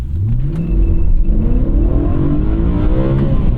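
A 2011 BMW M3 E90 with its naturally aspirated V8 pulls hard under acceleration, a loud, close engine note rising steadily in pitch through the whole run without a break.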